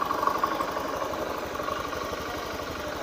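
A Honda Scoopy FI scooter engine idles with a steady, even, fairly quiet putter at close range, with no talking.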